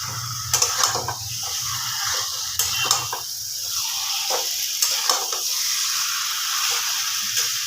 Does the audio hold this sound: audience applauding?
no